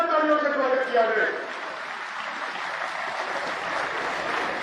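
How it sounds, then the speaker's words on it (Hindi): Crowd at a farmers' mahapanchayat in a grain market in Kharkhoda, Haryana, breaking into applause after an announcer's voice, a broad sustained clapping that carries on at moderate level. "उनका भी एक बार जोरदार तालियों से स्वागत किया जाए।"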